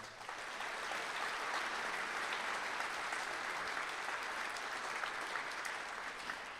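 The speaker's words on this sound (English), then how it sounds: "can we please say thanks one more time with a round of applause?" Applause rises from the audience at a high school sports awards ceremony, a thick, even roar of many hands clapping at once. It holds steady and fairly loud for the whole stretch without any break.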